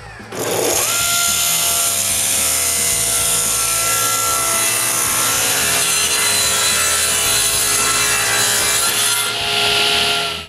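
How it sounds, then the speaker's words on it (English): Scrap wood cut with a power saw for a clamp rack, a loud, sustained whining buzz of the blade biting through the board, close and continuous for about ten seconds. "Then I cut some scrap wood to modify the back of the rack."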